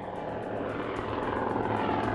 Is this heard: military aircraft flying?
yes